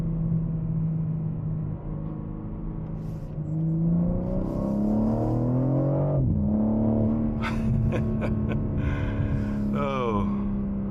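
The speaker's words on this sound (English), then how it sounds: "pick up the acceleration on this car, especially when I turned out from the road onto the main road" A BMW M4 Competition pulls out onto a main road, its engine note climbing in pitch, dropping at a gear change, then rising again with a steady hum and some light clicks and rustling in the cabin.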